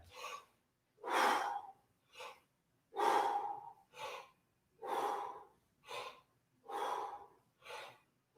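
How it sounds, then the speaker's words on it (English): Forceful exhaled breaths during breath squats in a vocal warm-up, a steady rhythmic series of about nine sharp, close puffs of air alternating long and short, with silence between them. "Exhale it out."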